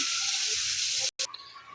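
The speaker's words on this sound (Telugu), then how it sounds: "రైస్ తీసుకున్న తర్వాత వాటర్ వేసేసి పెట్టేయడమే" Water poured steadily into a pot of rice makes a close, continuous hiss and splash that cuts off abruptly near the end, followed by a brief softer trickle.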